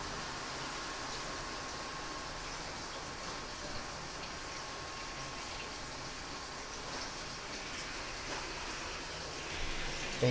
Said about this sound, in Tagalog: saka bumuhos yung malakas na ulan